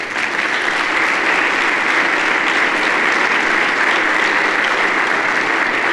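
A church congregation at a Sunday service breaks into sustained applause, a thick, even roar of many hands clapping. Loud and close, holding steady without pause or voices on top.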